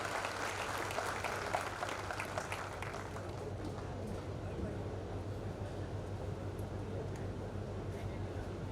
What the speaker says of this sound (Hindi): दोनों हाथ उठाकर जोरदार तालियों के साथ स्वागत कीजिएगा